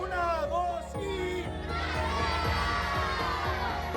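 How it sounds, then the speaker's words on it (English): A crowd of children in Ciudad Juarez shouts and cheers together in thanks to Coach Jeff Scurran, loud and close, with overlapping excited voices and chatter throughout. "everyone made sure to give a special shout-out cheer in the name of thanks"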